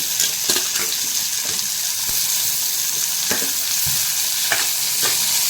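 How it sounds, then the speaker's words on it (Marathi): Onion and tomato are stirred and sautéed in a hot pan, giving a continuous close sizzle of frying broken by the sharp scrapes and clinks of a spoon stirring at irregular intervals. "आता हा मस्त मऊ होईपर्यंत परतून घेऊया टोमॅटो"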